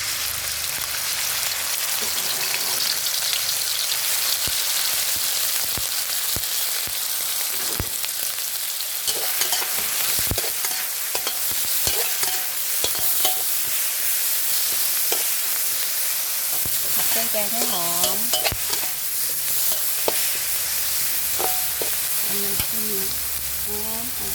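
Curry paste stir-fries in a hot pan over medium heat, giving a dense, continuous sizzle with frequent clacks and scrapes from stirring. A few brief vocal sounds break through near the end.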